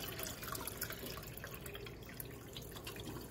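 Alkaline water at pH 11.5 poured over grapes to clean them, a steady soft splashing and trickling that runs throughout at low level with no talk.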